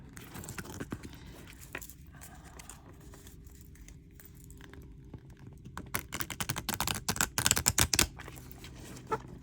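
Crisp, rapid riffling of oracle cards, quiet at first and then bursting into dense flurries of snaps and flutters near the end, with no voices.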